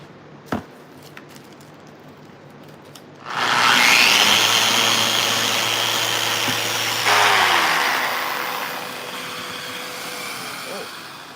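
A Festool Rotex sander spins up and runs against an abrasive cleaning eraser pressed onto a dirty sanding disc, a loud whirring whine with grinding rubbing that shifts partway through and then winds down.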